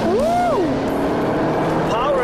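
A sports car engine roars loudly as it revs on a race track, pitch climbing and falling sharply through gear changes, with a voice talking over the noise.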